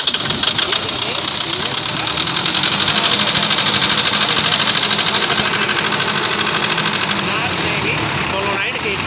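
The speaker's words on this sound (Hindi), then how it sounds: "अब हम तार के द्वारा शॉर्ट कर रहे हैं। देखते हैं इंजन स्टार्ट।" An engine cranks and runs steadily at idle with a fast knocking, sewing-machine-like rhythm after the starter solenoid lead is shorted with a wire, loud and close throughout a failed-start check.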